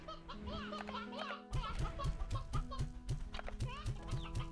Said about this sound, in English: Okay, we're gonna leave chickens here.